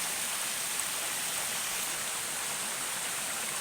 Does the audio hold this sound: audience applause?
no